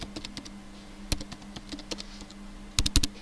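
Keys clatter on a computer keyboard as a command is typed at a FreeBSD terminal, with irregular close clicks and a quick final burst of keystrokes.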